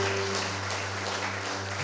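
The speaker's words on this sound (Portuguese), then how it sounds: "Aplaude o nosso rei aqui nessa noite, irmão." Congregation applauding during a Holy Communion evening church service, a steady wash of clapping throughout with a low sustained organ-like hum underneath.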